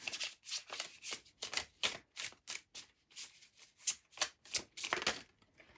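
Tarot cards being shuffled and drawn, a rapid run of crisp riffling bursts and soft flicks that come in quick uneven clusters, close and clear with no talking.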